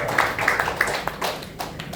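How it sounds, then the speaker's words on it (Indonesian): A church congregation claps for Jesus in scattered, uneven bursts of hands over a couple of seconds, moderately loud and close, with a faint murmur of voices. "Kasih tepuk tangan untuk Tuhan Yesus"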